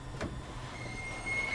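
A District Line train braking to a halt in Train Simulator 2019, heard as a faint, low rolling rumble with a thin, high brake squeal rising toward the end.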